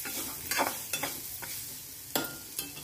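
Wood apple pulp is stirred into a sizzling tempering, giving a soft steady hiss broken by a handful of spoon scrapes and clinks against the pan, close but fairly quiet.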